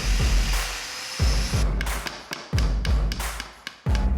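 Sharp wooden taps and thuds from domino tenons being driven into mitered wood joints on a workbench, a run of close, loud strikes in irregular bursts with no talking.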